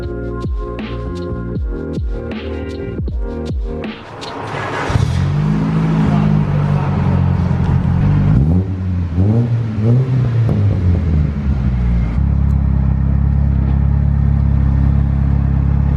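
A modded Honda Prelude with a custom exhaust revs up, first in sharp separate blips, then in long, loud, rising and falling revs close by that settle into a deep idle.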